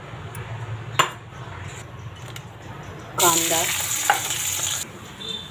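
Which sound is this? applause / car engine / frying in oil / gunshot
frying in oil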